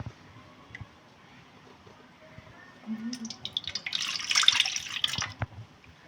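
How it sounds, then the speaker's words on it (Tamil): Buttermilk is poured onto cleaned chicken leg pieces, giving a brief close wet splashing and gurgling pour that swells after a quiet start. "இதை நல்லா க்ளீன் பண்ணி எடுத்துகிட்டு இப்போ கொஞ்சமாக மோர் சேர்த்துக்குவோம்."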